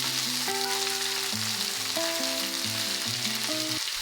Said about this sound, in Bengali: তেল ভালো মতো গরম হয়ে গেলে তার মধ্যে ডিমগুলো দিয়ে দেবো, দিয়ে খুব ভালো করে লাল লাল করে ভেজে নেব।